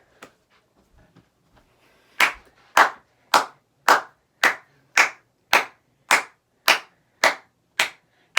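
After a quiet stretch with a few faint taps, a single pair of hands claps about a dozen times for a football team, each clap sharp, close and evenly spaced at a slow, steady pace.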